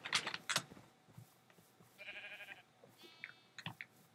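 Several sheep bleat in a Minecraft-style blocky game, each call a short wavering cry, close and fairly clear, spaced across a few seconds with game noises between them.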